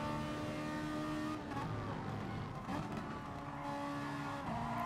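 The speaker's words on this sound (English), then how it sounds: "Ferrari sounding good." Ferrari race car circling a motor racing track, its engine a steady loud drone that swells slightly as it passes, with no talk.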